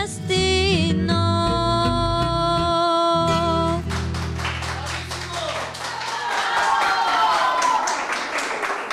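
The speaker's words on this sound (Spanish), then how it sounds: "Un aplauso fuerte, nuevamente un aplauso por favor para Yadira Alexandra." A held musical chord fades into sustained applause from a crowd at a Mother's Day tribute gathering in Biblián, Ecuador, dense clapping continuing steadily to the end.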